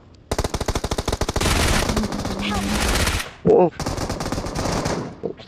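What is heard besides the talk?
50 caliber machine gun firing in PUBG Mobile video game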